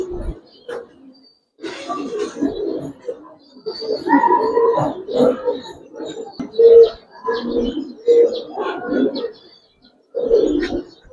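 Giribaz and coloring pigeons coo in bursts through a market pen, their soft, warbling calls layered with nearby chatter and occasional chirps from other birds.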